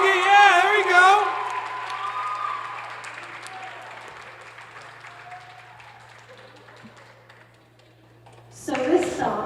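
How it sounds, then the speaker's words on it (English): An audience at a high school rock and pop ensemble concert applauds for Ricky, a dense clapping wash with some cheering that fades gradually and then swells again near the end, with talking at the start. "Can we get another round of applause for Ricky?"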